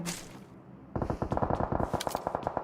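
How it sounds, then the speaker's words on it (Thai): Rapid bursts of automatic gunfire in PUBG Mobile crackle back and forth at mid distance, sharp repeated shots in uneven volleys after a brief quiet start. "โอ้ยิงกัน ยิงกันยับเลย"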